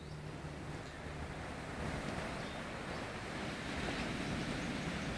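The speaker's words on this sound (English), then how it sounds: "it's quite a nice sound from the waves" Ocean waves wash onto a beach in a steady, soft rolling surge, faint and distant with a gentle breezy hiss and no voices.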